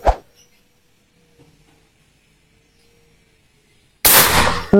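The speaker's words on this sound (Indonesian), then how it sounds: "Tembakan kedua." A Black Wolf PCP air rifle in titanium spec, charged to about 3000 PSI, fires one loud, sharp shot that starts abruptly and rings out briefly, after a short crack at the start and near silence in between.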